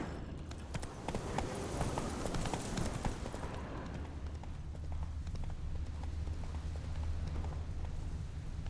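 Roach, a horse in The Witcher 3, gallops with rapid, rhythmic hoofbeats over rumbling game ambience, loud and close throughout with no talk.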